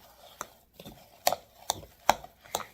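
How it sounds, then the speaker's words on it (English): A utensil mixing hard-boiled eggs with canned salmon in a bowl for a salmon salad, giving a few sharp, separate clicks and scrapes spaced about half a second apart, close by, with no talk. "So now I'm going to mix up the hard-boiled eggs with the salmon."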